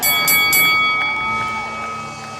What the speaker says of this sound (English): Ring the bell, ref.